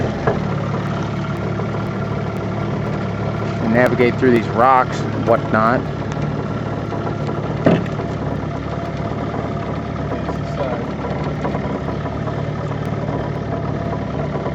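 A small outboard motorboat on Fulcher Lake at Camp Anjigami, a fly-in fishing camp in Ontario, idles with a steady low rumble throughout, while someone talks over it about navigating through rocks.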